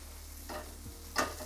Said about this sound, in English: It's frying up, looking quite good.